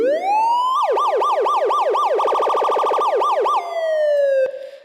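Synthesized police car siren from the SFX Pro 9000 plugin preset, rising into rapid wailing sweeps, then a fast yelp, more sweeps and a steady high tone, loud and alone.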